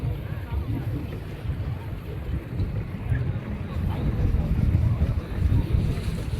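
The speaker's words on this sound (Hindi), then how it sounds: "हम बोटिंग करके जा रहे हैं वापस" A boat glides across Mirik lake in fog, carrying a steady low rumble of motor and water with wind buffeting the microphone throughout, growing slightly louder toward the end.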